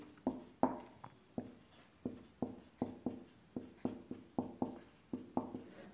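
Chalk or marker taps and strokes on a classroom board during a Class 12 physics lecture, a regular series of short sharp knocks about twice a second, close and soft, with no talk.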